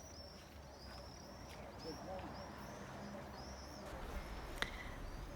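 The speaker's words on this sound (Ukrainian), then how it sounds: "Ви чуєте, які гучні зграї пташок серпокрилець кружляють у небі?" A flock of swifts circling in the sky at summer dusk, thin high-pitched screeching trills repeating at a distance over faint background noise.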